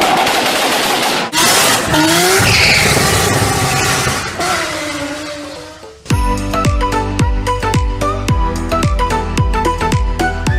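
An Audi A4 Stage 1 with a custom exhaust runs on a dyno, its engine note climbing loudly through a long rev sweep, then breaking into a rapid, regular string of sharp popping bursts.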